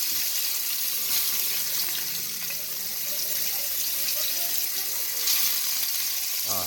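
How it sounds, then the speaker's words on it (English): Steady hissing sizzle of oxtail frying in a hot pan, continuous and fairly close, with crackling bursts and no talking. "you like hear that fucking sizzle"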